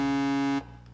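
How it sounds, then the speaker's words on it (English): A Korg ModWave MK2 oscillator's B-layer waveform holds a steady, buzzy harmonic tone for about half a second, then cuts off abruptly, leaving a faint tail. "So this is the B part of the oscillator"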